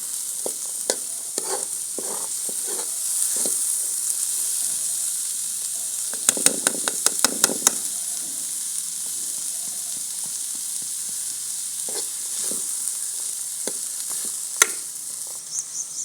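Chickpea chana masala chaat roasting in a kadai in a village kitchen, a steady close sizzle broken by repeated scraping stirs and clattering utensil taps, with a brief burst of rapid clinks midway.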